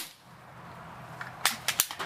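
A Xisico XSP180 .22 caliber break-barrel spring piston air pistol fires with a sharp snap, followed by a few quick metallic clicks and taps, close and moderately loud in a quiet setting, with no talking.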